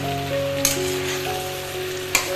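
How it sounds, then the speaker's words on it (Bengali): Vegetables sizzle in an uncovered pan as they are stirred, a soft, steady frying hiss with a couple of brief scraping clinks. "ঢাকনা খুলে আবারও নেড়ে চেড়ে নিচ্ছি।"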